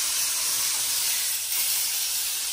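Beef tenderloin roast searing in a hot pan, giving a steady, loud, broad sizzling hiss that runs continuously and close up, with no voices.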